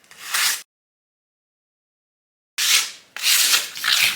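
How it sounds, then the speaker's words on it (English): Sandpaper rubs across a painted wooden canvas sign to distress the finish, two close, scratchy bursts separated by a stretch of silence, the second burst longer and louder. "And the more you sand, you can take it down to the paint, you can take it down to the wood"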